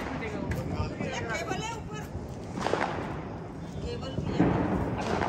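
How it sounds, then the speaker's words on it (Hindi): Several sharp bangs from exploding Diwali firecrackers burst out amid a noisy outdoor crowd, with people chattering and shouting throughout. "पता नहीं कुछ अलग टाइप का कुछ पटाखा है,"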